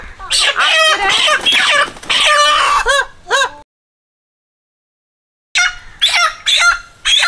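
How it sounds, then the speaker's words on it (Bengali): A live chicken clucks and squawks in agitated bursts, loud and close, breaking off into a few seconds of silence before another run of frantic calls. "মুরগিটা এত ছটপট করছে"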